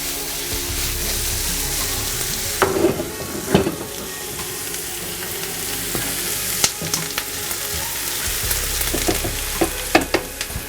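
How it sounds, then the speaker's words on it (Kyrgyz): Onion fries in a pan as a topping for vareniki, giving a loud, continuous close sizzle broken by occasional clinks and scrapes of stirring, with no voices. "Мына биздин пиязыбыз кооруп калды."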